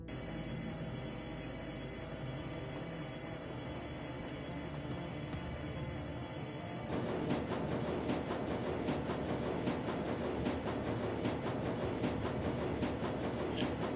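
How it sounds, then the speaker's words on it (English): Train rumbling along in Dragonfall, a continuous heavy low roar with a steady broad hiss, growing slightly louder midway as rhythmic clickety-clack wheel beats come through, close and sustained. "the train rumbles its way towards Brandenburger Tor"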